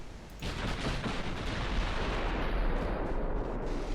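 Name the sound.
warship main guns firing in Ultimate Admiral: Dreadnoughts video game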